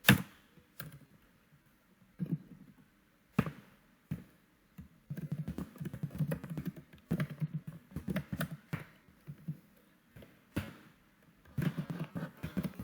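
Quiet keystrokes on a computer keyboard during Selenium coding, with scattered taps and short irregular bursts of typing separated by pauses.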